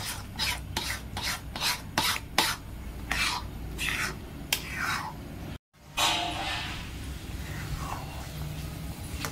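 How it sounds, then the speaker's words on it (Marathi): A spoon stirs thickening pithla, a gram-flour dish, in a pan with repeated scraping strokes in a steady rhythm, close and moderately loud, with a brief dropout midway before softer stirring resumes. "आता ते घट्ट व्हायला सुरुवात झाली आहे म्हणून सारखं हलवत राहायचं."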